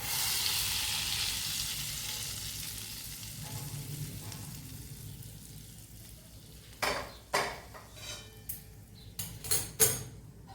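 Ghee being stirred into dhaba-style palak spinach with green peas in a pan: a soft sizzle at first, then a run of sharp spoon-on-pan clanks and scrapes toward the end, with no talk.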